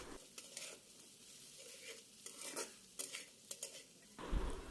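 Vegetables — carrots and long beans with ginger-garlic paste — stir-frying for Chinese fried rice, with steady sizzling broken by repeated scraping strokes of a utensil against the pan, ending in a louder clatter; no talking.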